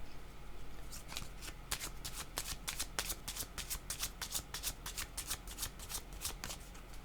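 Cards are shuffled continuously for a card reading, a steady run of quick, crisp riffling flicks close by, with no voices.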